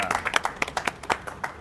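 A small group of people clapping at the opening of a new thresher and chopper hook model, a quick burst of uneven nearby claps over about a second and a half.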